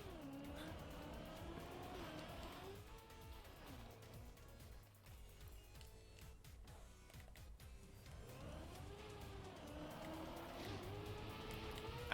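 Race car in Trackmania Deep Dip 2 driving and sliding on ice, engine pitch sweeping up and down with revving and gear shifts, faint and continuous with no talk.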